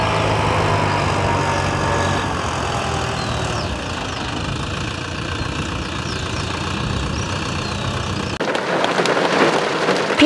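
Rain begins falling on a farm field, a steady close hiss of drops layered over the low hum of an idling tractor engine, shifting in texture near the end, with no talking.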